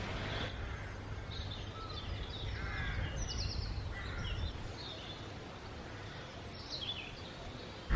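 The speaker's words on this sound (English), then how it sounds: "Loads of birds, all calling." Several birds calling in the trees of a Cornish garden graveyard, including crow-like caws and scattered chirps, over a steady wash of outdoor background noise.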